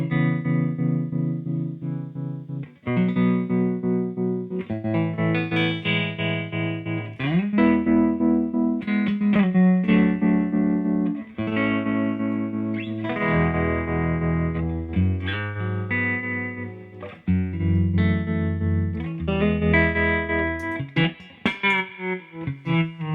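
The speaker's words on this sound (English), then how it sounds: "you can change the way the wave goes into the trem and the way it goes out of it" Electric guitar played through a Chase Bliss Gravitas tremolo pedal, its volume pulsing between smooth sine-wave swells and choppy square-wave cuts, loud and steady with chorus-like shimmer, no voices.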